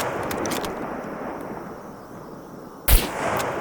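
A single close gunshot in the survival video game SCUM cracks out sharply near the end, over a steady ambient background of wind and outdoor game atmosphere.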